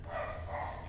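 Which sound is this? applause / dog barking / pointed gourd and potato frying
dog barking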